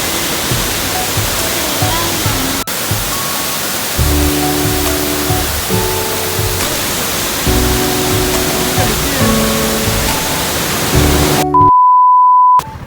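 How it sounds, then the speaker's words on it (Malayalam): Valara waterfall in Munnar roars as a loud, steady rush of falling water filling the whole clip, with a few faint tones over it and an abrupt cut to a beep near the end. "നമ്മളിപ്പോൾ കാണുന്നത് വാളറ വെള്ളച്ചാട്ടമാണ് കേട്ടോ"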